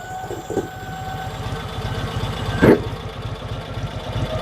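A 1986 Cushman Truckster's two-cylinder engine idling close by, a steady even chugging pulse with a brief louder burst near the middle, no talk.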